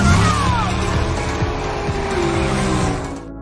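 A street race car from a Fast and Furious film roars at full throttle, its loud engine droning steadily with tire squeals and sliding tones before fading slightly at the end.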